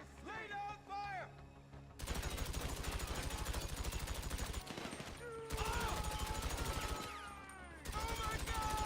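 Rapid automatic gunfire from the video game GTA 5, loud sustained bursts that break off briefly and resume, with a voice heard shouting near the start.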